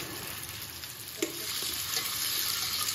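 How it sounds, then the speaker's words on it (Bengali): Radish frying in a pan: a constant close sizzle with light stirring and one brief clack of a utensil, and no talking. "মূলা ভাজি করব।"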